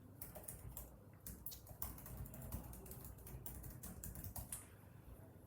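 Code being typed on a computer keyboard, a quiet, close patter of quick key clicks in uneven bursts with short pauses, with no voice over it.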